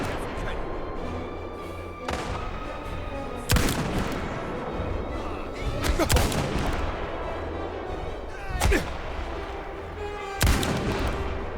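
Gunshots in the video game Indiana Jones and the Great Circle, several sharp single shots spaced a few seconds apart over low game ambience.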